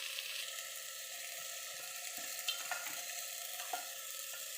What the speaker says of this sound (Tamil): நம்ம பச்சைப்பயிறு எடுத்து இப்போ போட்டுக்கலாம்